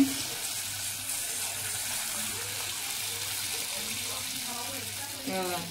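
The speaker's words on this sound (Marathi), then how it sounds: "हे बघा आता मी याच्यामध्ये आहे ना थोडंसं पाणी घालून घेते।" Water pours steadily into soft fried onions in a pan for a Maharashtrian zunka, a continuous broad hiss and rush with a bubbling gurgle near the end.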